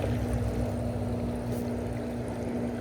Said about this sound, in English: We're going to turn the pump on.